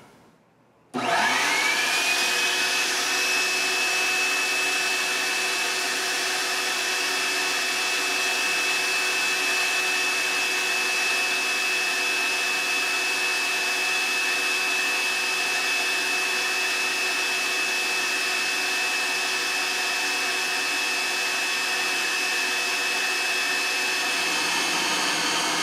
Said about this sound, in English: And remember, when you use your shop vac,